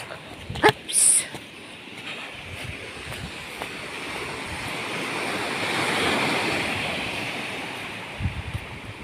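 Sea waves washing in along the shore, a broad continuous surf rush that swells toward the middle, with wind buffeting the microphone and a few brief knocks near the start.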